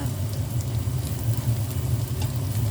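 Garlic frying in hot oil for a stir-fry of glass noodles with pickled mustard greens, a steady, close, even sizzle that holds for a few seconds without pause.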